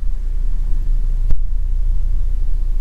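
A tuned Ford Fiesta making about 230 horsepower idles right after starting, with a loud, steady low rumble and a single brief click partway through.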